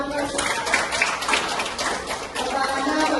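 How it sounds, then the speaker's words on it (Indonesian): A small audience claps in a short burst of quick, dense applause, lively and fairly close, lasting a few seconds with a voice faintly under it. "Tepuk tangan dulu."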